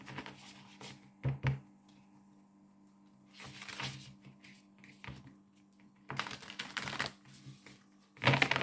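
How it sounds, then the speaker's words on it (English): Tarot cards shuffled by hand in several separate bursts of rapid riffling and flicking, each lasting about a second, with quiet gaps between and no talking. "And one more shuffle."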